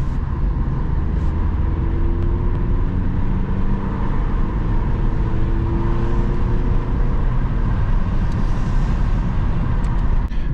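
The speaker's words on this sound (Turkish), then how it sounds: "Hatta biraz motor sesini duyalım." Steady idle of a 2000 Volkswagen Passat B5 engine, a continuous low hum with a faint whir on top, close and even throughout with no talk.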